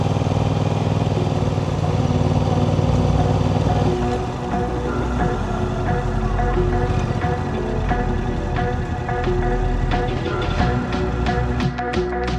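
A Yamaha R7 motorcycle engine rumbles steadily at low speed while pulling into a parking area at a Cars and Coffee meet, the deep running drone staying close and continuous throughout with a slight shift after the first few seconds.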